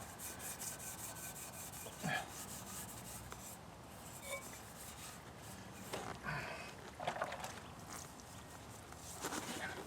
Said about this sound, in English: I'll go over the header pipes real quick. Get some of the grime off.